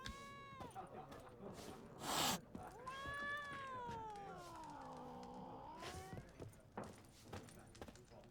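A cat meows in The Witcher 3, a long drawn-out call with a wavering pitch near the middle of the clip, alongside other game sounds and a brief loud burst just before it.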